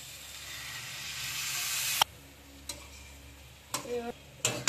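Water poured into a hot pan of potato and fig curry gives a steady, close hiss of steam for about two seconds, then cuts off, leaving a quiet background with a few scattered clinks and taps.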